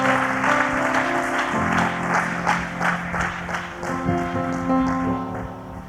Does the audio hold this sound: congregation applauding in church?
yes